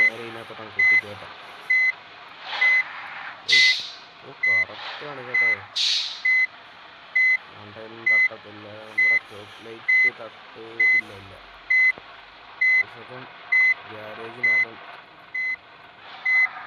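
A bus in the Bus Simulator game reverses into a garage behind a house, its reversing alarm beeping steadily in a regular rhythm for the whole stretch while someone talks over it.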